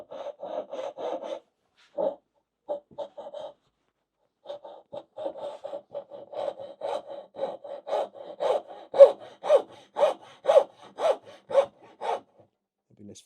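Steady back-and-forth rasp of a hand saw cutting dovetails in wood, starting in short bursts then settling into a regular, rhythmic stroke up close.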